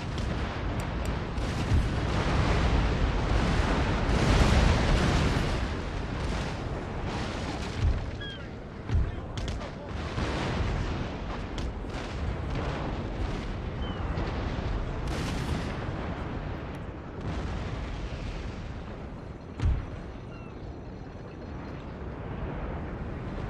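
Cannon artillery fire from a Napoleonic battle in the game Napoleon: Total War, a dense, rumbling barrage of overlapping booms under a constant battle roar, with a few sharper blasts standing out.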